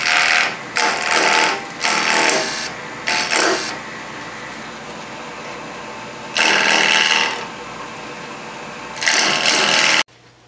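Wood turning on a lathe, a tool rounding an offset pocket mirror blank: loud broadband bursts of cutting come in several separate passes of one to three seconds, with quieter motor hum between them.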